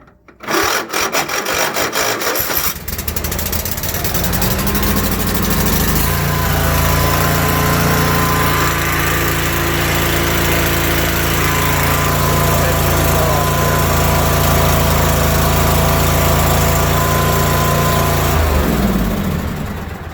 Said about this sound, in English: Result of first time of starting this motor